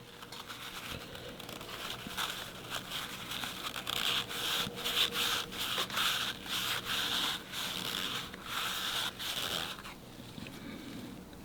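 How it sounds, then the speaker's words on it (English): A rag scrubbing grime off a motorcycle throttle body on a Harley Iron 1200, close rhythmic rubbing strokes in bursts, quiet with pauses and no talk. "And then you can get a rag, a new rag, or get a towel and start wiping."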